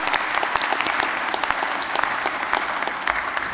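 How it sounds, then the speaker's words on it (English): Audience applause at a City College Dublin graduation ceremony, a steady, fairly dense clapping filling a hall, continuous and moderately loud with no talk over it. "and again, a round of applause, everybody."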